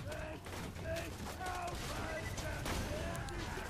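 Rapid gunfire in the video game Borderlands 2, a dense burst of shots and impacts mixed with game sound effects, fairly faint and continuous over a few seconds.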